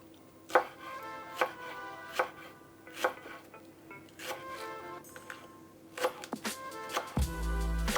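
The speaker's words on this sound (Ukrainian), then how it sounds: "І додам ще зеленої цибулі. Приблизно так само її буду нарізати." Knife chopping green onion on a cutting board, a series of sharp, close taps at an irregular pace, some in quick pairs, ending with a louder low rumble.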